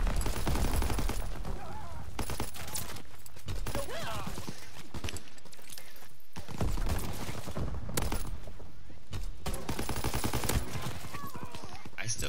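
Gunfire in the World War II shooter game Call of Duty: WWII, with dense bursts of shots and automatic fire running through the whole stretch, loud and near, with players talking over it.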